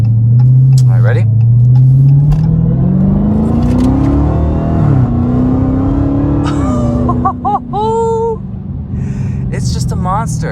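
A 707 hp Dodge Challenger Hellcat Widebody accelerates hard, its engine note climbing loud and close through the gears with brief dips at shifts, and excited voices break in toward the end.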